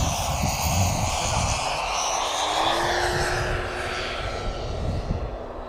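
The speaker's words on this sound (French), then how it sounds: "C'est donc l'avion de formation des pilotes." A Pilatus PC-21 training aircraft makes a low pass with its flaps extended, a steady loud propeller-engine drone holding throughout with a slowly shifting tone as it goes by.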